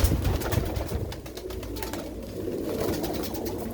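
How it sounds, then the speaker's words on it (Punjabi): Pigeons coo softly in a loft, low throaty calls repeating over a hum of background noise, fairly close and without any speech. "ਉਸਤਾਦ ਬਿੰਦਰ ਪੁੱਲੀ ਵਾਲੇ ਕਬੂਤਰ ਕਿਵੇਂ ਉੜਦੇ ਸੀ"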